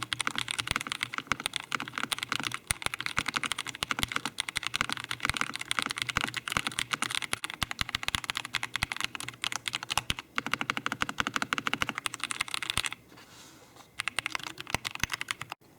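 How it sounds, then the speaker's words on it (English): Fast, steady typing on a MelGeek Modern 97 wireless mechanical keyboard, a dense run of clicky keystrokes close up, with a brief pause near the end before it resumes. "a quick demo of what it sounds like as you're typing"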